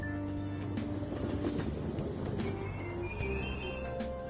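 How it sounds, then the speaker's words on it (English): A commuter train rumbles steadily as it pulls away from a Tokyo-style metro platform in Persona 5 Royal, with tonal rail whine and faint wheel squeal layered over a constant low drone. "Train doors are now closing. Please stand back."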